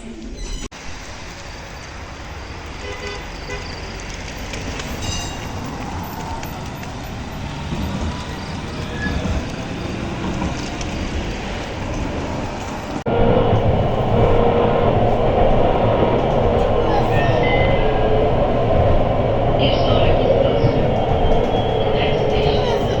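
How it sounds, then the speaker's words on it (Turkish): A tram rolls along with a loud, steady rumble and rattling wheels, the noise jumping louder midway as it picks up, with faint high squeals. "Tramvay diğeri yoldan geri dönen tramvaymış bindiğimiz yere."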